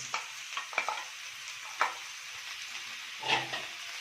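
Small-cut chicken breast pieces fry with peppers and onion as a filling for shawarma-style goulash pastry, a soft steady sizzle punctuated by a few sharp clinks and scrapes of a utensil against the pan, close, with no voices.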